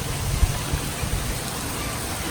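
Rain patters steadily on a Dodge Charger, a dense close hiss from inside the car with a few soft thumps of drops on the body.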